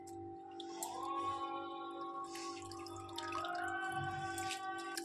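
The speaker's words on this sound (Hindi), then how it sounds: "अब ये पानी फेंक के मैं दूसरे पानी से करती हूँ।" Water being poured over raw potatoes as they are washed in a bowl in a home kitchen, a soft, steady splashing trickle with a few drips, faint and close.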